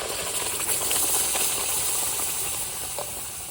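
Sizzling of ground paste gravy added to hot butter in a pan for tandoori butter chicken, a steady close hiss with faint crackles running throughout.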